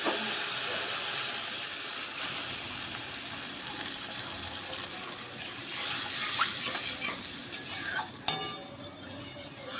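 Steady sizzling of spices frying in oil in a pan, then a louder burst of hissing and bubbling midway as water is added, with a sharp clink of utensils near the end.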